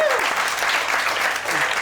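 Audience bursting into applause for a magician on a comedy talk panel, a dense, loud burst of clapping that holds steady throughout.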